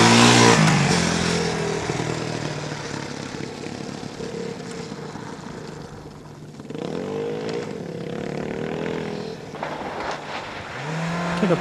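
Toyota RAV SUV competing in the Attiko Rally Raid 2006 roars past close and loud, its engine fading away before a second revving pass rises again, no voices.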